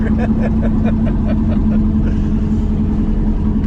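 A 1972 K20 4x4 truck that sat for 15 years runs and drives, its engine giving a loud, steady, close drone with an even hum throughout and no clear revving.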